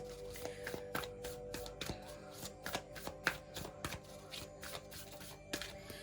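Tarot cards are shuffled by hand in quick, crisp riffling bursts, close and fairly quiet, repeating in a loose rhythm for several seconds with no voice over them.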